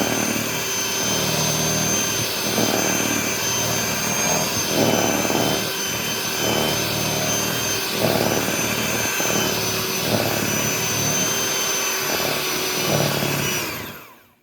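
An electric mixer whirs steadily for about fourteen seconds, a loud continuous motor drone with faint rhythmic pulsing, then cuts off abruptly at the end.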